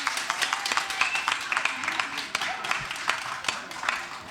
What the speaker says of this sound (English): if you liked it, you can clap really loud